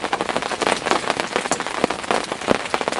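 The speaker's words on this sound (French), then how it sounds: "je laisse la pluie passer" Rain pours onto a water surface in steady, dense patter with no breaks, close and fairly loud, with heavier drops splashing here and there and no voices.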